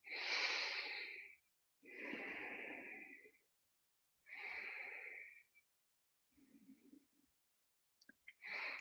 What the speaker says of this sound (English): take some deep breaths